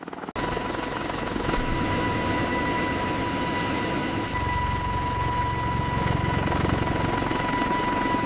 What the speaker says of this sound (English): the unmistakable sound of attack helicopter rotors cutting through Arctic air